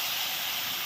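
Chicken meat drops into a hot pan for a homemade curry and sets off a loud, close, steady sizzling hiss that lasts under a second.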